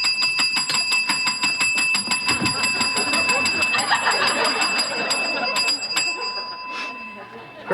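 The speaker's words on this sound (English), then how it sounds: "You have been told never to ring that bell." A guest bell at a country inn is rung repeatedly, sharp metallic rings sounding in a quick steady series over people talking, then fading out.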